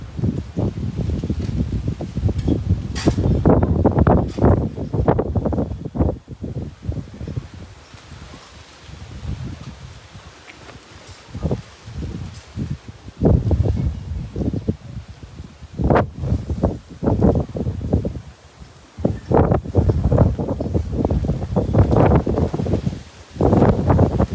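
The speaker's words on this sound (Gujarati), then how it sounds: "પવન જ એટલો બધો ફૂંકાતો હતો" Strong wind blows in loud, buffeting gusts with rushing rustle of leaves, surging and easing repeatedly over a long stretch.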